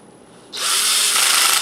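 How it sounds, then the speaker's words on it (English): After a short quiet moment, a cordless drill set to a low torque setting whirs for about a second, driving a screw into a Gigaminx puzzle. The burst is close and loud, then cuts off. "get a drill with a torque meter and set it to 1, and then you go ahead and you screw it in"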